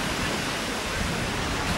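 Sea surf washing onto a beach in Dalyan, Turkey, a dense, steady rushing wash filling the whole moment, close and loud with no distinct breaks.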